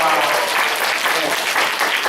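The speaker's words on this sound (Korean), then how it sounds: "자, 어머니 두 분께 박수 한번 주세요." An audience at a youth history lecture in a museum hall claps steadily, a dense, continuous round of applause that holds at an even level from start to finish with no talking over it.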